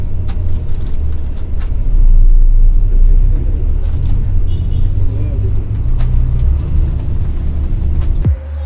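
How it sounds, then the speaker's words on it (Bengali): A Hanif Volvo B9R multi-axle coach engine drones steadily while the bus moves slowly on a road between Chittagong and Dhaka, a loud continuous low rumble with faint cabin noises above it. "এই রোডে এত স্লো ড্রাইভ করছে, তারপরও ইঞ্জিনের বেশ ভালোই সাউন্ড পাচ্ছি।"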